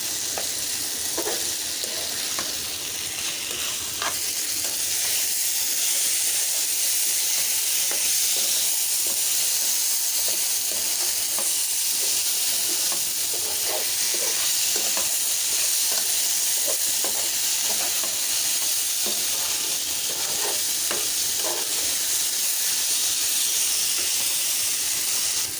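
Aloo katli frying in a pan, a continuous steady sizzle and hiss with occasional soft scrapes of a spatula stirring through it, close and fairly loud, no voices.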